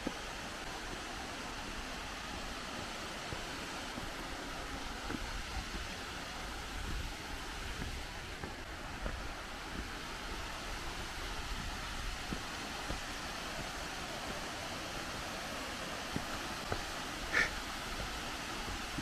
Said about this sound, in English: Hear the sound of that waterfall.